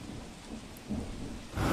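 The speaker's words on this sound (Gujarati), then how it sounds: "સુરતમાં સતત વરસાદ વરસી રહ્યો છે" Heavy rain pours in Surat, India, in a dense, steady hiss, swelling louder toward the end, with a low rumble beneath.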